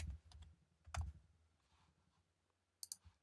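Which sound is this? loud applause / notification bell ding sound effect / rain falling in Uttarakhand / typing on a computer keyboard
typing on a computer keyboard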